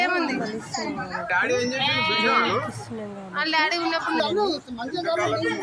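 A goat bleats at a Gandi Maisamma temple offering, with a couple of wavering bleats mixed into steady, close chatter from family members talking over it.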